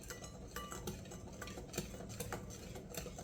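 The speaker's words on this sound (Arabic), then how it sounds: "نزيد نخلط كلش مليح مليح" Cookie batter made with oats, milk and cocoa is stirred in a bowl, giving quiet, rhythmic scraping and soft ticking of a utensil against the bowl, close and faint with no talking.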